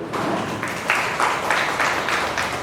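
Applause from a gathered crowd at a political event welcoming passage of a women's reservation bill, a steady wash of clapping that swells in brief bursts over about three seconds.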